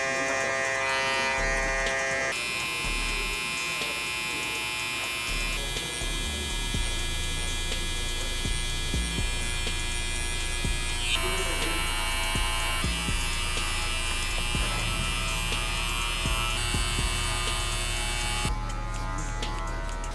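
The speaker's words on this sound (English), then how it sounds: "just so we leave a guideline for that shaver" An electric shaver buzzes steadily and up close, its pitch shifting as it cuts hair during a low burst fade haircut, with no one speaking.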